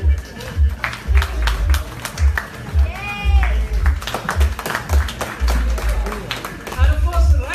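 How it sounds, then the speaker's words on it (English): An audience applauds the cast on stage at a movie trailer launch event for Karenjit Kaur, with bursts of clapping rising and falling over several seconds and voices mixed into the room noise. "Please give a round of applause to Vijay Jasjeet Anand."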